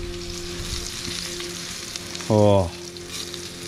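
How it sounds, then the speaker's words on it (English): Fish frying in a pan during a catch-and-cook outing, a brief loud sizzle burst near the end over low background noise, with a man's short exclamation just before it. "Oh, sizzle, sizzle."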